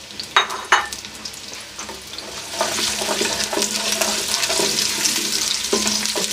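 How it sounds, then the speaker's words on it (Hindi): Three small sliced onions drop into hot oil in a pot for Afghani pulao, a couple of sharp knocks followed by a loud, steady sizzle with stirring scrapes close by. "मैं प्याज डाल रहा हूँ इसके अंदर।"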